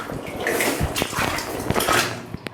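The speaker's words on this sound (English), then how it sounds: "slow drip of mineral-rich water" Water drips and splashes inside a flooded mine shaft in quartz rock, irregular close plinks and drops with a watery, echoing background and a few sharper knocks.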